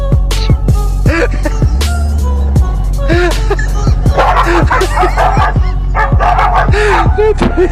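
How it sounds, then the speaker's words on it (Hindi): Several dogs bark and yip repeatedly at close range, overlapping one another in busy bursts, with some whimpering mixed in. "फिर गेट बंद होते ही फिर से भौंकना शुरू कर देते हैं"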